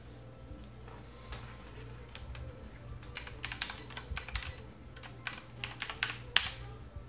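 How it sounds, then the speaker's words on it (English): Keys clatter as a password is typed on a WY-55 terminal keyboard, a run of quick, irregular clicks over a steady low hum, with a louder keystroke near the end. "I'm gonna type in this password real quick."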